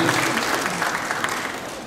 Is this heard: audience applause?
yes